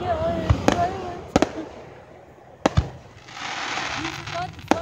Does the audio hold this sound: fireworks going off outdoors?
yes